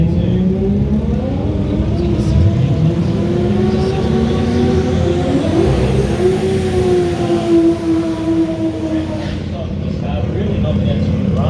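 A Mazda RX-7 fitted with a 2JZ engine revs at a Brisbane drag racing event, its rising and falling engine tone climbing through gears under loud trackside commentary.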